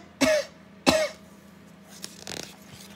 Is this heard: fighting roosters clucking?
no